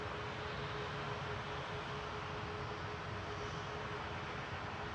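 easyJet Airbus A321neo departing Manchester Airport for Malaga, a faint, distant, steady engine rumble and hiss that holds evenly throughout, with no talking.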